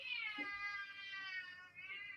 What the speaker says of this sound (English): Meow. Oh, that is Chevy